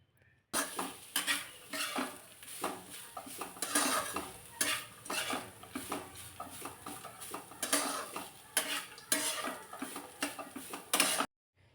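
Grated coconut roasts in ghee while a spoon scrapes and stirs the pan in repeated knocking strokes, giving a soft sizzle under busy clatter; no one speaks.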